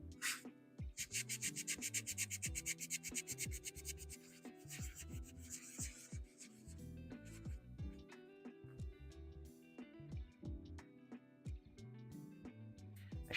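Sandpaper scratching down a cured 3D-printed resin Anakin Skywalker figure, a close, quiet stretch of fast rasping strokes at first, then slower intermittent rubs and small knocks.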